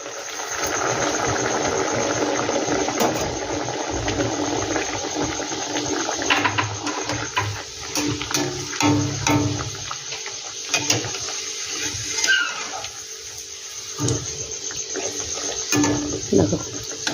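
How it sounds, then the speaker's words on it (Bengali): Pieces of vegetable mughlai go one by one into hot oil and fry with a steady, moderately loud bubbling hiss, broken by faint clinks and handling noises. "দেখো তেলটা কিন্তু আমার গরম হয়ে গেছে, আমি কিন্তু এবার এক এক করে দিয়ে দেবো।"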